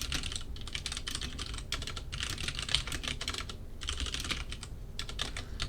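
Computer keyboard typing while a short C++ program is written, rapid clicking keystrokes in bursts separated by brief pauses, close and steady, with no voices.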